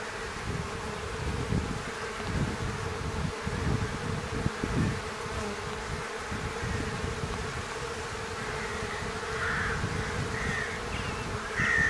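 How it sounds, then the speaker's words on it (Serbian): Honeybees foraging on sunflowers make a steady, dense buzzing across an open field, close and continuous, with no talking. "može se znači primetiti da dosta pčela unose polen"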